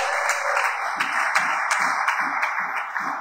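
Church congregation applauding during a Sunday worship service, a moderately loud patter of many hands clapping, with a few sharper rhythmic claps standing out in a steady beat.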